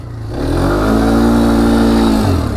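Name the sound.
Polaris Phoenix 200 quad engine revving under throttle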